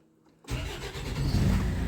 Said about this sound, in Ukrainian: повертаємо ключ і заводимо машину